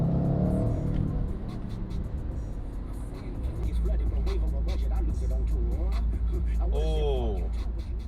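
A supercar's engine gives a loud, steady low rumble that swells slightly in the second half, heard from close by on a street.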